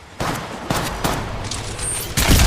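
Loud bursts of gunfire in the mobile battle royale game Apex Legends Mobile, a quick series of sharp shots and rattling volleys close up, with no talking.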